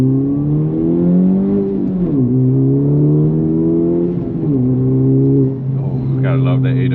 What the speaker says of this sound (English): gotta love that AWE exhaust and that PRL Stage 1 intake